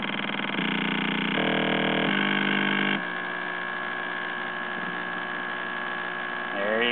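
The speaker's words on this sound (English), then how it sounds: "this is my spark gap generator" A homemade spark gap generator runs with a steady, loud electrical buzz that shifts in tone several times before settling into a continuous hum, close by and without talking.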